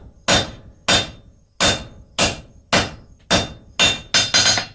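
A blacksmith's hammer pounds cold metal bar eight or nine times while forging it down toward 1/4 inch square, loud and close, the steady blows quickening into a rapid flurry at the end, each leaving a bright ring.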